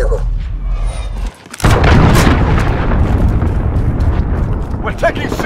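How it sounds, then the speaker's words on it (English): Cruise missile explosions in Call of Duty: Modern Warfare Domination multiplayer hit with a sudden loud blast that rolls into a long, heavy rumbling roar. Radio voice chatter plays around it. "Allied cruise missile on the way"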